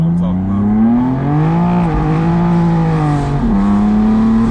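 A BMW M4 with traction control off spins its tires, the engine droning steadily with shifting pitch, loud and close throughout, a voice briefly audible over it.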